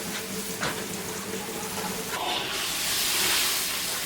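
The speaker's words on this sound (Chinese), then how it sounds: "水开了" Water coming to a boil in an iron wok while fish is being cooked, a steady hiss and bubbling that swells louder toward the end, with no talk over it.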